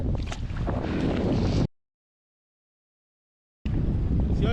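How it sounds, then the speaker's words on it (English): Wind gusts buffet the microphone on a lake during kayak bass fishing, a loud steady roar that cuts out to silence midway and then returns just as strong. "So you're gonna have to excuse the wind again."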